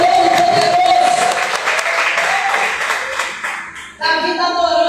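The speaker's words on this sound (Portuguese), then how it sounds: "Merece palmas para Jesus, Ele está na casa" A church congregation applauds during a Portuguese-language worship service, with dense clapping that fades and then stops. A sustained musical tone rings underneath.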